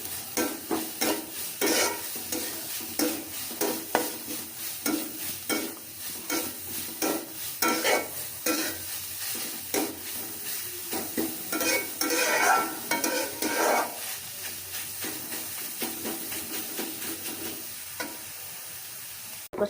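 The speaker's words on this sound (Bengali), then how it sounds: "দিয়ে এটাকে এখন সুন্দর করে পেঁয়াজের সাথে ভাজি করে নেব।" Carrots with onions and a little salt sizzle in a pan while a utensil stirs and scrapes in quick rhythmic bursts, near and fairly quiet, with no talking.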